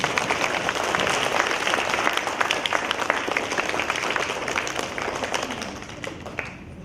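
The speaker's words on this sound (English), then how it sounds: "let's give them a round of applause" Fourth-grade spelling bee audience applauds the class winners, a sustained burst of clapping that fades slightly toward the end, with no talk over it.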